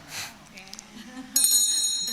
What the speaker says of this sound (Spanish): vamos a tocar la campana de cierre